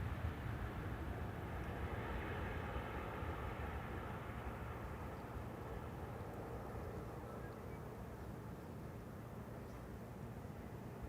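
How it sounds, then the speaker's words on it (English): An Airbus A380 landing on the Schiphol Polderbaan runway, a steady low rumbling jet roar heard from a distance outdoors, gradually easing off over the stretch. "Now after the landing of the A380"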